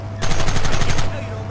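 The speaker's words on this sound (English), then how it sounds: "Look, machine gun!" Machine gun fire in the Red Dead Redemption video game, a loud sustained burst of rapid rhythmic shots lasting about a second over a low steady background hum.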